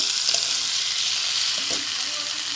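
Steady, close sizzling and frying of onions, potatoes and bhetki fish bones being sautéed in a pan, with a few faint stirring scrapes under a continuous hiss.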